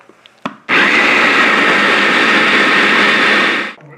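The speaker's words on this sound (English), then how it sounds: "we're gonna grind just a little cranberry in" A blender whirs loudly at high speed, grinding cranberries for chutney; a few small clicks come first, then a steady, close motor roar that winds down at the end.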